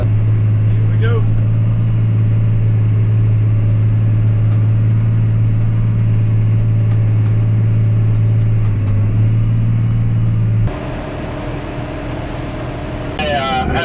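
A truck engine in two-wheel drive idles along slowly with a steady low rumble and hum, close and continuous, while people talk over it; the tone shifts near the end.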